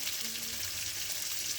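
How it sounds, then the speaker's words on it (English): Chopped sweet potato tops fry in a pan with a steady, close sizzle and hiss that does not let up, and there is no talk over it. "I'm sort of kind of just frying the vegetable."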